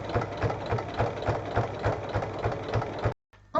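A sewing machine stitching around a zipper on a small fabric bag, a close, steady rhythmic mechanical chatter of regular needle strokes that stops abruptly near the end, followed by a brief pause.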